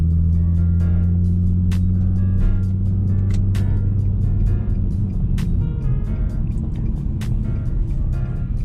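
Steady low drone of an Infiniti G35 sedan rolling along at around 20 mph, a constant engine hum with faint ticking and clicking on top, no speech over it.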